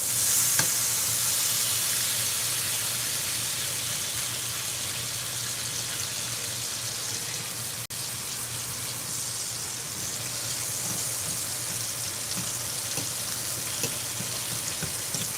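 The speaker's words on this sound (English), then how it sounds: "These onions get to get crispy," Onions sizzling and frying in a pan for steak and onions, a steady close crackling hiss that runs evenly throughout with no one speaking.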